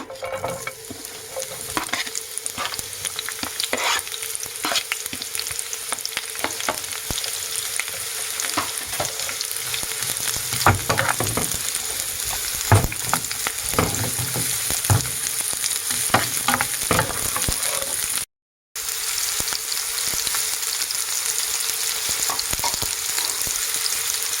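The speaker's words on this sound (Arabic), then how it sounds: "هبدا انزل اول حاجه بالبصل" Onions sizzling as they fry in a pan, a continuous loud hiss with scattered crackles and stirring scrapes, briefly cut to silence near the end before resuming.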